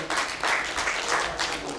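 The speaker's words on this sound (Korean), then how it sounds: "여러분 박수로 축하해 주십시오" Applause from a crowd at an awards ceremony in a hall, a steady wash of clapping lasting a couple of seconds without a break.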